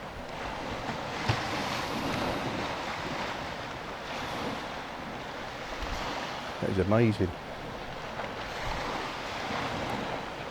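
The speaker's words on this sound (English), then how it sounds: "Listen to the sea." Sea waves roll against the shore below a cliff near Reculver Towers in a steady, distant surf wash mixed with gusty wind buffeting the microphone, and someone briefly speaks partway through.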